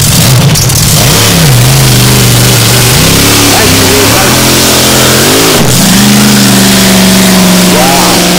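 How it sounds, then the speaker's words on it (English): A racing powerboat engine roars loudly and continuously, its pitch swooping up and down as it revs hard at close range. "The noise of these boats is incredible"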